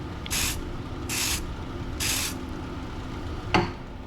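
Three short hissing bursts of CA glue accelerator sprayed over a wood finish, evenly spaced about a second apart, followed by a brief sharper click, with no talking.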